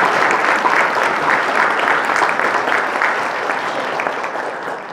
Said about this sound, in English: Let's give these past participants a round of applause.